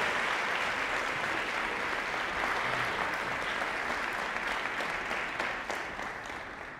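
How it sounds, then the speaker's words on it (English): A large audience applauds steadily and loudly, a dense wash of clapping that holds for several seconds before beginning to fade. "let's give another round of applause to Alexa and Maddie."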